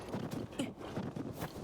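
Horse hooves in a Zelda video game beat in a quick, steady rhythm of soft thuds, sounding faint and slightly distant over a low ambient hiss.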